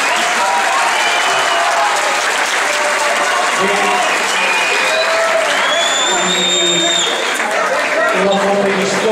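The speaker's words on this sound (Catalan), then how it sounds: "aplaudiment pels campions" Loud sustained applause from a crowd honouring sports champions at an awards ceremony, steady clapping throughout with scattered whistles and voices mixed in.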